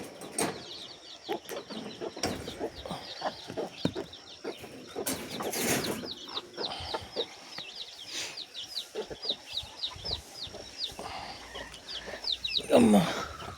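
Hens and chicks cluck and chirp while pecking at rice mixed with turmeric, soft scattered calls and pecking taps at close range, with a faint voice in the background.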